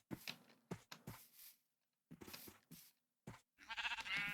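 Sheep bleat in TerraFirmaCraft, a Minecraft mod, with several short separate bleats broken by silent gaps, followed by a longer, louder and more tonal bleat at the end.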